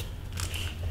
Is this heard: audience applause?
no